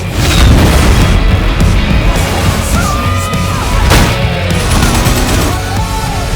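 A missile explosion in the Death Race film booms loudly, followed by crashing debris and further blasts, with a dense, chaotic roar of action-scene noise and brief whistling tones.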